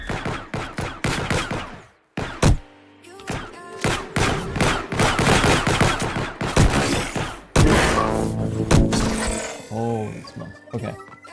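Rapid bursts of video game gunfire crackle loudly and near, in dense repeated volleys with brief pauses and thuds between them, while a voice speaks intermittently over the shooting.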